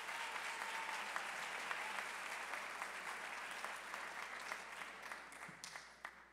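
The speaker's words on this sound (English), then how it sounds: "Let's cheer her for her extraordinary leadership." A graduation audience at the Helene Fuld College of Nursing ceremony applauds the college president, a steady, dense clapping from a large crowd that holds throughout and thins slightly near the end.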